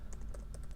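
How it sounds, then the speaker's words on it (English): Rapid, uneven clicks of fingers typing on a computer keyboard, close and fairly quiet, over a steady low hum with no talking. "I'm actually going to type a little thing here."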